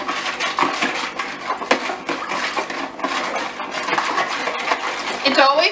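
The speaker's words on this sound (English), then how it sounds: "Stir it up a little bit." A spoon stirs sugar into homemade Jamaican carrot juice, clinking and scraping rhythmically against the container close up, with quick repeated metallic taps throughout and a voice briefly heard near the end.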